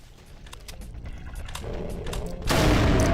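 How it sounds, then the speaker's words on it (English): Mancubus fireball launcher firing in Brutal Doom, with repeated loud blasts and booming explosions that swell into a dense roar of fire toward the end, close and heavy. "Oh god, I forgot I picked up the mancubus fireball launcher."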